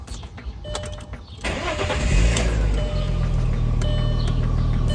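An Audi B5 S4 engine cranks briefly, catches with a sudden roar, then settles into a steady, close idling rumble.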